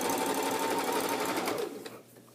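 A sewing machine stitches a decorative welted pillow cover, a close, steady whirring hum with a fast rhythmic needle chatter that slows and fades near the end.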